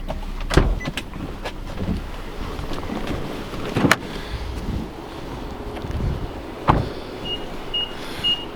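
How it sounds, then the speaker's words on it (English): Power tilt and telescoping steering wheel motor in a 2017 Infiniti QX50 AWD: a faint electric whirring runs under light cabin noise, punctuated by several sharp clicks and thumps as the column moves and stops. "The steering wheel tilts and telescopes, and it power tilts and telescopes."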